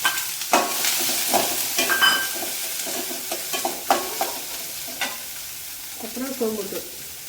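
Urad dal, onion, green chilli and curry leaves fry in a pan, with a continuous sizzle broken by several sharp spoon clatters and scrapes of stirring.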